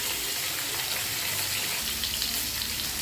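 Katla fish pieces fry in hot oil with a steady, dense sizzle that stays close and even throughout, with no voices over it.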